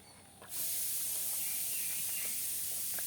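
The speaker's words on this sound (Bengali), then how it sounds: "কুকারে সিটি মারছে।" Steam hisses loudly and steadily from a pressure cooker whistling while dal cooks, a faint hiss rising abruptly into a strong continuous rush that holds without a break.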